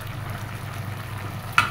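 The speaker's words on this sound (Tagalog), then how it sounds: "Patapos mag-prito" Fish frying in a pan, a soft steady sizzle at moderate distance with a brief sharp clink near the end.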